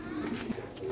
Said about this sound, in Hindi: इतने भी दोस्त सारे माशाल्लाह कलरदार कबूतर हैं